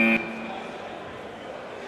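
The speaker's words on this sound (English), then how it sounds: "The buzzer goes, you gotta go, Charles." A buzzer sounds to start a round in a tag match, one short flat electronic tone that cuts off quickly and leaves a fading echo in a large room.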